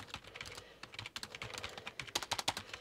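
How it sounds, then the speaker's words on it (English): Rapid clattering keystrokes on a traditional computer keyboard while a standard sentence is typed, close and fairly quiet, uneven in rhythm, heard alone. "So a traditional keyboard first to give you a bit of a comparison. So let's just do a standard sentence."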